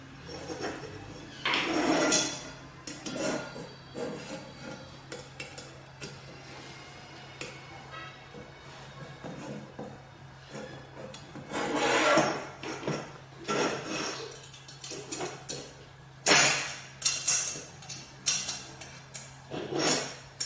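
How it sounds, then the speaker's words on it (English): Aluminium L-shaped track pieces being fitted together and screwed, with irregular clicks, taps and knocks of metal parts close by, bursts of handling noise between quieter pauses and no talking. "combine these two pieces track together. Put the screw inside."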